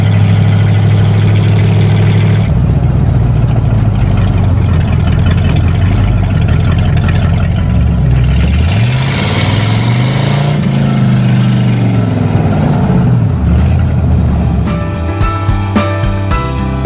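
A car engine hums continuously on a drive north through Richland, a loud low drone whose pitch rises and falls gently with speed.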